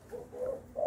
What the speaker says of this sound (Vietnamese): Đây là cu cườm Việt Nam và cu cườm Thái Lan.